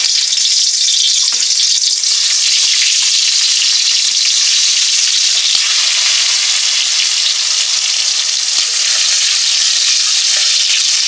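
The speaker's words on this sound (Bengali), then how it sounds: "আমি এখন বেগুন ভাজি করব" Eggplant slices rubbed with turmeric and salt fry in hot oil in a wok, giving a loud, steady, close sizzle that crackles without pause throughout, with no voices.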